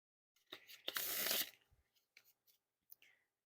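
Bicycle Stargazer Observatory playing cards spread into a wide fan, a quick papery riffle of card edges sliding across one another, followed by a few faint soft flicks and taps, close and quiet with no talking.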